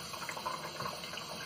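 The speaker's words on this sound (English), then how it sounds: "now I'm going to fill this bucket with room temperature, lukewarm water" Lukewarm tap water runs into a bucket for yarn soaking, a faint, steady splashing trickle with no voices.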